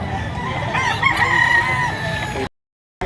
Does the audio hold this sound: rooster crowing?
yes